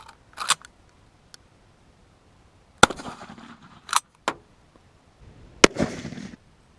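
Three sharp, loud blasts from a 12 gauge shotgun firing 3.5-inch Black Cloud shells at about 25 feet, each a hard crack followed by a short rumbling tail, spaced a second or more apart with quiet between.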